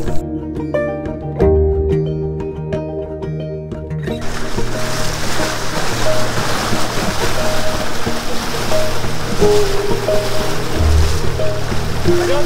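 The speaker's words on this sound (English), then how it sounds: "I have never walked in waist-deep water in a swamp like this." Legs wade through waist-deep swamp water, making a continuous splashing, churning wash. Tonal hum and music-like tones run underneath, the first few seconds cleaner before the water noise fills in and stays loud throughout.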